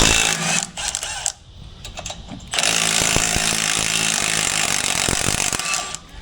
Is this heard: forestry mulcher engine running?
yes